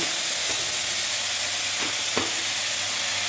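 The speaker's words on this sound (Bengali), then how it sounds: "শুধু একটু জিরে ফোড়ন দিয়ে দিলাম" Cumin seeds sizzling in hot oil for a tempering, a dense steady crackle and hiss close up, with a couple of light stirring scrapes.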